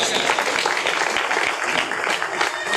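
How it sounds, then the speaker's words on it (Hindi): Enthusiastic applause from the audience at a Hindi comedy poetry show, a loud, dense, sustained roar of many clapping hands filling the whole short stretch. "एक बार जोरदार तालियां बजाओ।"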